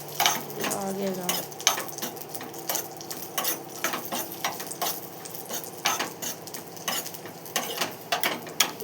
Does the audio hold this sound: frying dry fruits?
yes